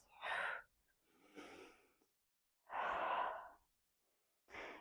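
Slow, deliberate breaths during a core twisting exercise, heard close and soft: a strong exhale, a lighter inhale, another long exhale, then the start of a fourth breath, each separated by silence.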